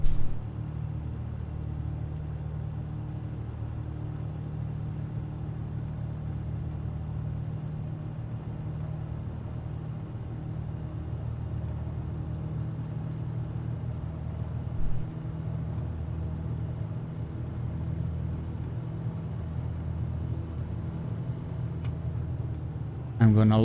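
A propeller aircraft taxiing along a runway in Microsoft Flight Simulator 2020, a steady low engine drone and rumble holding constant throughout with a brief bump midway and near the end.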